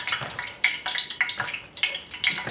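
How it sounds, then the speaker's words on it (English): Water added to warming cooking oil in a pot for Sierra Leone stewed spinach, giving repeated bursts of sizzling, crackling spatter close by, rising and fading in waves with no talk. "Ooh, I put some water in there."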